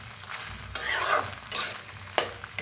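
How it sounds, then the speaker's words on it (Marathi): A chilli dish being stirred and roasted in a pan: soft scraping and sizzling strokes in a few bursts, close and moderately quiet, with no talking. "मस्त असं मिक्स करून घेतलं छान असं भाजून"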